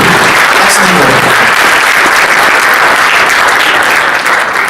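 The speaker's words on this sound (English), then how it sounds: "give her a round of applause" Sustained audience applause at a convention voice-acting panel, loud, dense and steady across the whole stretch with a faint voice briefly underneath.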